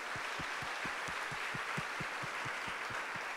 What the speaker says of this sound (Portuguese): Você pode dar um aplauso ao Senhor que te aceitou no meio do povo dele?